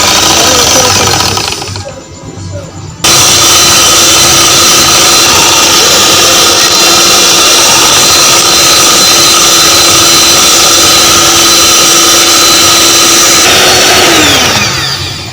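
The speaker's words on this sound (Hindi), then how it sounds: "अब इसको ग्राइंड कर लेंगे।" Electric grinder blending cake batter with oil and powdered sugar for a chocolate cream cake made without an oven whirs loudly and steadily. It pauses briefly near the start, restarts, then winds down at the end.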